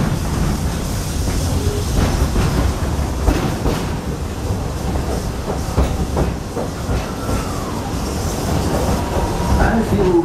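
The Walt Disney World Railroad train rolls along its track, with steady wheel rumble and clickety-clack, faint squeals and a few clanks, moderately close throughout.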